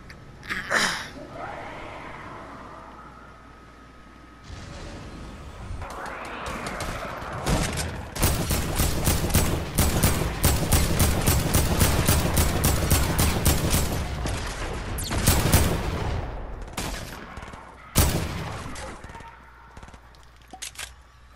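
Video game gunfire: scattered shots give way to a long, dense burst of rapid automatic fire in the middle, followed by a few sharp isolated shots, loud and close, with little speech.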